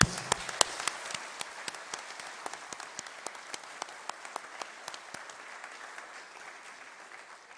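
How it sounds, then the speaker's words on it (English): Graduation ceremony guests clap together in a fairly quiet, moderately distant round of applause, individual sharp claps standing out above the steady patter, which gradually tapers off. "Please join me in a round of applause to each other to recognize the graduate and the guests and what we've achieved."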